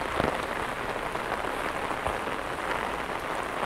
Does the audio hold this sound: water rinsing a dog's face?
no